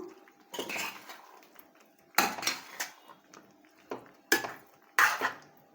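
A metal spoon stirs masala with cumin powder in a cooking pot for chicken gravy, giving repeated close scraping clinks against the pot in several uneven bursts, with no talk.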